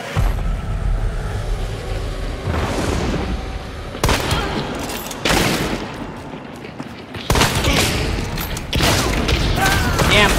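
Shotgun blasts and other gunfire in an online shooter game arrive as several loud, abrupt bursts spaced a few seconds apart. They ring out over a constant layer of in-game noise, and no one speaks.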